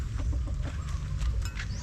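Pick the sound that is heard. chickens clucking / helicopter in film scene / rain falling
chickens clucking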